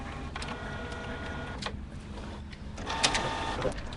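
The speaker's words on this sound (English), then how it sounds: "Now if Eric just remembered to plug the printer in this time" A printer runs with a continuous mechanical whirring and clattering, a busy, moderately loud hum with small shifts in rhythm throughout.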